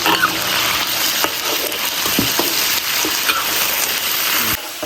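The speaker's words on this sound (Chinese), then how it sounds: "锅中加油， 先下肉，煸出多余的油脂" Meat frying in oil in a pan, rendering its fat with a loud, continuous close sizzle and a few soft scraping taps, no talking.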